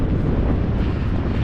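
Wind buffets the microphone outdoors near a water tower, a steady loud low rumble filling the whole moment without pause.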